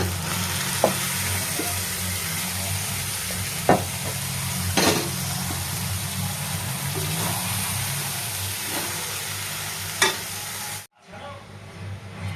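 Boiled peas frying with spices in a pan for ghugni: a steady, close sizzle with scattered stirring clicks and taps, then a sudden cutoff near the end before a quieter sizzle returns.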